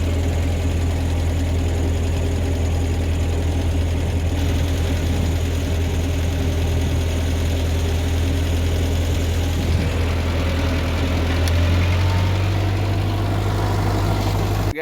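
A Ford 8N tractor engine runs steadily throughout a ride, a continuous low, even rumble with a constant drone and no breaks.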